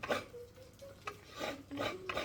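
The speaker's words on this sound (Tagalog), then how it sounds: "Dito tayo ngayon nagkakayod ng niyog." Coconut flesh being grated by hand in the Filipino province style, a steady series of close raspy scraping strokes with short pauses between them and no talking.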